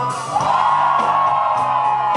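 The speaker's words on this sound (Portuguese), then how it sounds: "Quem tá feliz, dá um grito agora" Concert crowd at a live show in Dourados, Brazil, letting out one big sustained collective yell and whoop, loud and close, holding steady for about two seconds.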